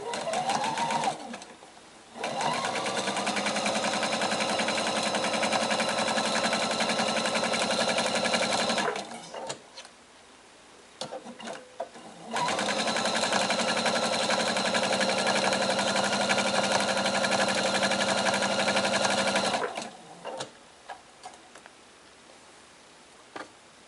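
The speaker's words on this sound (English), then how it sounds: "This machine I'm sewing on today, the Quilt Expression 720 by Pfaff, lifts the foot up automatically" Pfaff Quilt Expression 720 sewing machine stitching a reversible tote bag, two long steady runs of rapid, even whirring with quiet pauses and small clicks between them, heard up close.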